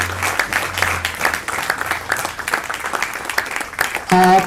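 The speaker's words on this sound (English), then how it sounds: "Can you clap louder" An audience claps for students called onto the stage at a school literary event, with continuous, fairly loud applause that swells and dips, ending in a brief tonal electronic sound.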